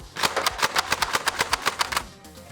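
A Nerf foam-dart blaster slam-fires a rapid burst of about a dozen loud, evenly spaced mechanical thumps close up, then stops abruptly.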